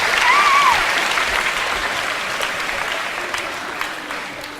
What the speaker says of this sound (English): Give him a round of applause, guys.